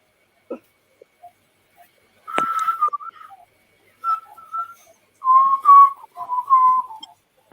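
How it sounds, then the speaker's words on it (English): Someone whistles during a live stream on transfer deadline day, a few short pitched notes and warbling tones in separate bursts over near silence, with a few faint clicks between them. "Oh, cheers for the whistling"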